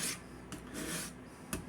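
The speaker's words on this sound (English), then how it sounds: "I'm bringing it toward me because I can feel it trying to cut into the diamond surface a little better that way." A large thrift-shop kitchen knife rasps across a diamond sharpening surface in several short, gritty strokes, close up and fairly quiet with brief pauses between passes.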